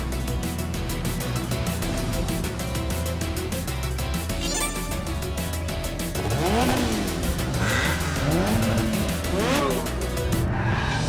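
Race cars whine and rev in Sonic & All-Stars Racing Transformed, with engine sweeps, tire squeals and passing cars over game music, while someone talks over the action throughout.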